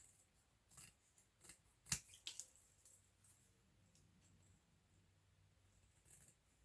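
Scissors cut paper for page pockets in several quiet, crisp snips spread across the stretch, with one sharper cut standing out among soft rustles.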